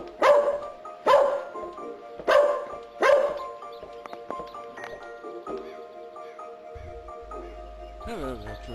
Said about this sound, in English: Stop barking, son.